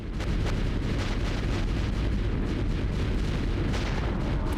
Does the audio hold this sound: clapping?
no